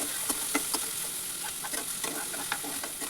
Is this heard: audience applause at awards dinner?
no